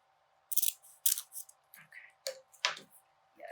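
Scissors snip through paper while a collage is trimmed, giving several short, crisp cuts in an uneven rhythm, close and fairly quiet.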